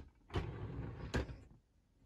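A sunglass drawer slides open with two soft rumbling scrapes close by in a quiet room.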